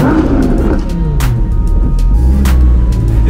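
A 2018 Audi R8 V10 Spyder engine growling loudly at close range, a deep, heavy drone with rising and falling pitch as it revs.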